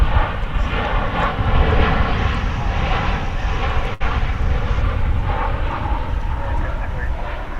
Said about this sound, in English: what you just heard was a flight coming in from